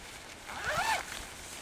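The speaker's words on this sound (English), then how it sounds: "it's got a two-way zipper here" A single quick pull of a two-way tent zipper, soft and close, rasping for under a second in an otherwise quiet space.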